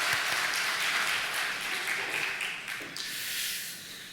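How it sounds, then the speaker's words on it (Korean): During a Sunday church service, the congregation gives a round of applause, a broad, even clapping texture that gradually thins and softens toward the end. "하나님 경외 박수 올려드리겠습니다."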